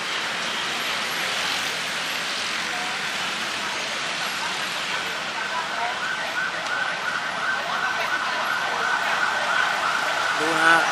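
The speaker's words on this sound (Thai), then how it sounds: "รถพยาบาลมา" An ambulance siren wails amid continuous traffic noise, fairly distant at first and swelling slightly louder toward the end.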